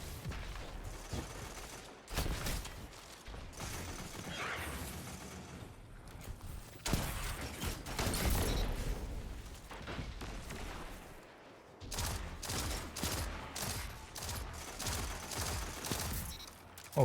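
Rapid gunfire crackles through a Destiny online match, dense bursts of automatic shots over game effects, continuous and fairly loud with brief lulls.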